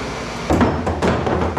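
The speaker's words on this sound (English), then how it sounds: "It's basically just breaking that weld off." A hydraulic press breaking the weld off scrap copper gives a sudden loud crunch, then several heavy metallic thumps and knocks over a steady machine hum.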